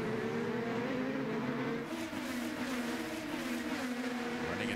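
IndyCar race cars at Long Beach hum faintly and steadily at a distance, a thin engine whine holding its pitch with a slight shift midway.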